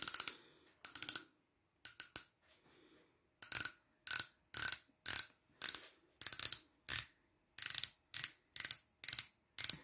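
Twist-up click mechanism of a cosmetic product with a built-in applicator tip being turned by hand, giving short bursts of sharp close clicks in a fairly regular rhythm with brief pauses between turns.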